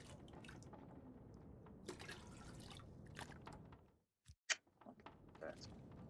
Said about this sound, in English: Let's fill up on water.